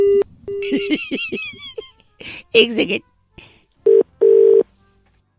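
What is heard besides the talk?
phone call being cut off, tones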